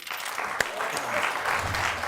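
Applause from an audience, a dense wash of clapping that swells and holds steady, with some voices faintly mixed in.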